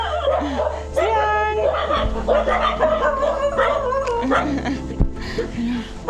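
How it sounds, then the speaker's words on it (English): Dogs in a Toraja village in Sulawesi, Indonesia, bark and yip excitedly with whimpering and howl-like cries, several overlapping calls mixed with people talking nearby. "the dogs here are not used to foreigners"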